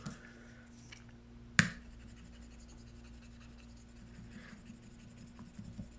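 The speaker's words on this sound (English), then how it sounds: "Maybe you can listen the sound of scratching." Knife blade scratching across a Xiaomi Mi 9T smartphone: quiet, dry scraping with one sharp, sudden scrape standing out near the start.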